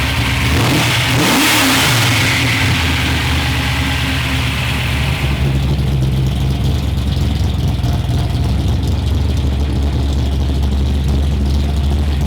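A 1969 Dodge Charger with a TCI shifter revs hard near the start, its engine climbing and falling through loud bursts before settling into a deep, rumbling idle that carries on steadily to the end.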